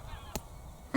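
Greylag geese honk during a November goose hunt in Germany, with a short honk in the middle and a louder call at the end of the one-second clip.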